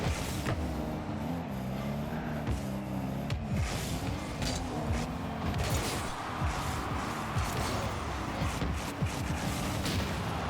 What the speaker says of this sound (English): I also think I noticed that Mawkzy's using a Grand Champ goal explosion